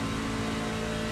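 A Ferrari Challenge race car engine in iRacing at Spa, a loud, steady high-revving drone that holds without a break.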